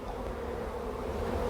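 Honeybees at an open hive while a spring split is made, a faint, steady, low droning hum with no pauses or voices.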